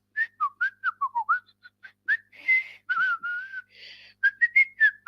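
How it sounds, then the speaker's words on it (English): A person whistles a tune, a run of short, clear chirpy notes followed by a few longer held tones, close and alone in a quiet room. "Oh, sorry, I'm whistling."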